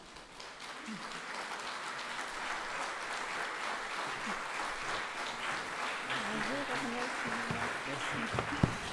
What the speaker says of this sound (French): que je vous demande à présent d'accueillir en l'applaudissant très fort.